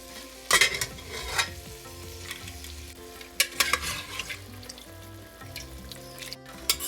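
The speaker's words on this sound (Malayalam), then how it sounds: "ഇനിയും ഇതിലേക്ക് ഞാൻ കുക്കറിൽ വേവിച്ച മട്ടൺ ചേർക്കുകയാണ്" Cooked mutton from a pressure cooker stirred into frying masala paste in a single pot, with a low sizzle under clanking metal-spoon scrapes and knocks in bursts, close by, no voices.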